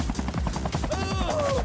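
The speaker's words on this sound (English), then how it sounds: "It's a helicopter." Rapid rhythmic thudding of helicopter rotor blades passing overhead at a beach, loud and steady, with a brief voiced tone and other sounds layered over it.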